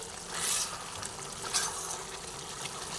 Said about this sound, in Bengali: এবার এই অবস্থায় এটা একটু ফুটবে তারপরে আমি এটা নামিয়ে ফেলব